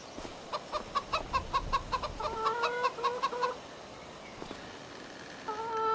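Chickens cluck in the farm video game Farming Simulator 25, a run of rhythmic short clucks through the first half followed by rising squawk-like calls, with quiet ambient noise and a brief call near the end.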